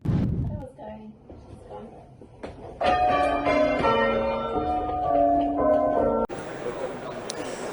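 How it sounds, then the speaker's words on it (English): UK church bells ring out in layered, sustained tones in tribute following the accession of King Charles III, with sparse speech beforehand and a wash of outdoor noise at the end. "Today, paying tribute, bells ring out"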